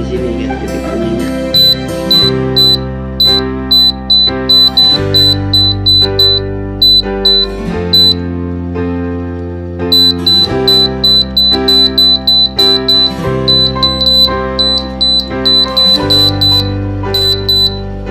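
An air conditioner control board beeps during electronic repair, repeating high-pitched buzzer beeps in rapid clusters over a loud tonal, music-like background.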